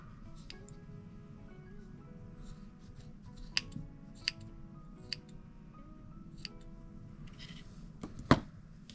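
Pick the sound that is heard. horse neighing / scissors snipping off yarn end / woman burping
scissors snipping off yarn end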